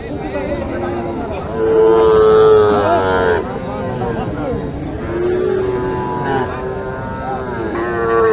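Cattle low repeatedly amid a busy crowd at Mataji cattle market in Naogaon district, long drawn-out moos rising over steady background chatter.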